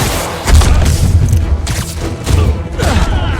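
Continuous heavy gunfire and booming impacts in Marvel's Spider-Man game combat, dense and loud throughout with rumbling low thuds and faint voices in the mix.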